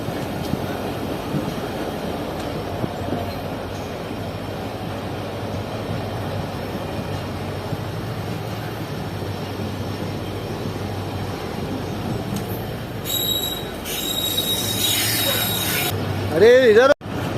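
KCR trains 2 Down and 1 Up meeting at Malir railway station in Karachi, a long steady rumble of rolling cars with shrill metallic wheel squeal rising near the end.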